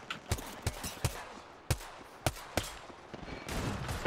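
Gunfire in Apex Legends: sharp, separate shots that crack out at uneven intervals, some close together and some spaced apart, then a rougher burst of noise at the very end.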